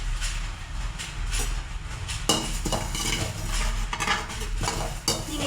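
Fennel seeds are dry roasted in a pan with red chillies for fish curry masala powder, giving a steady close scraping and stirring with light rattles throughout.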